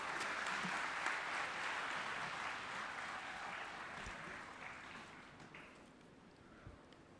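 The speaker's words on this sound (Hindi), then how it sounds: "उपस्थिति एवं तांकर उद्बोधन आम मन को निश्चित रूपे उत्साहित करिबो करताली माध्यम रे स्वागत करिबो" An audience at a ceremony for a visit by the President in Puri claps steadily, a dense wash of applause heard alone that slowly thins out.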